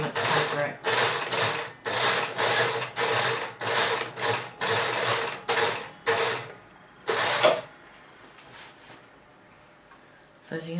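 Sewing machine stitching a hem on a box pleat skirt, running in about a dozen short, loud, evenly spaced bursts with brief pauses, close up, then stopping into quiet.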